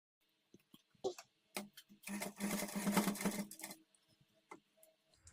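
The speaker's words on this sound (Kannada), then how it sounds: "ಸಣ್ಣದಾಗಿ ನೀವು ಫೋಲ್ಡ್ ಮಾಡಿಕೊಂಡು ಪೈಪಿಂಗ್ ಸ್ಟಿಚ್ ಮಾಡಿ" A sewing machine with a normal presser foot stitches piping on a blouse in one quiet, close burst of rapid whirring. Scattered soft clicks and handling taps come before and after it.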